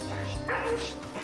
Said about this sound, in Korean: 짖음과 동시에 달려나가는 탓에 건물 전체에 짖는 소리가 울려 퍼집니다.